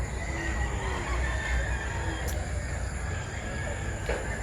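Chickens and a rooster at a morning poultry market in Mantalungon, clucking and crowing faintly amid dense, steady crowd and market noise, with voices talking in the background throughout.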